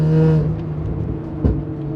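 Exhaust of a Nissan Z33 350Z Fairlady Z settling from a rev into a low idle gurgle, with one brief pop or thump partway through, close and moderately loud with no voices.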